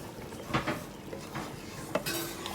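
A spoon stirs Nigerian Rivers native soup in a pot, giving a few scattered scraping knocks and clinks against the metal at close range with no talk.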